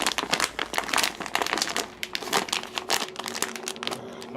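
Plastic packaging from an Asda Halloween wig crinkles and crackles in dense, irregular bursts as it is pulled open up close, with no one speaking.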